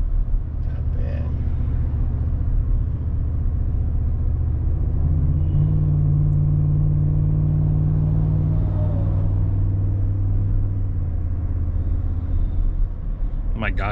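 2023 Ford F-150 with a 5.0 V8 towing a 7,000 lb travel trailer, giving a steady loud low engine drone with a rising tonal note midway, heard from the cab.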